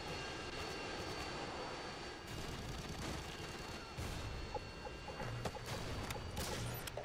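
A helicopter flying in a first-person shooter game, with a continuous aircraft engine drone under sharp bursts of gunfire and explosions, fairly quiet overall, without speech.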